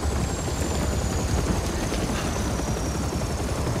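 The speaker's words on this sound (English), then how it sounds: "Whenever something goes wrong, Daddy lands in a helicopter." A helicopter landing in the Spider-Man 2 video game: a loud, continuous rotor and engine roar with a faint high whine, steady throughout and with no talking.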